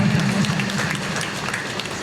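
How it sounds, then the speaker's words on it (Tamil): An audience applauds a man who served sambar with idli at breakfast: steady, dense clapping from many hands, with a low hum underneath and no clear talk. "கைத்தட்டுங்க அந்த மனுஷனுக்கு முதல்ல"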